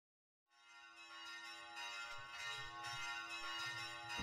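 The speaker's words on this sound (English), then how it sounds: "Who's ringing the bells?" Bells ring in the video game Dark Cloud, a faint, sustained peal rising after a brief silence and holding steady, with no talk.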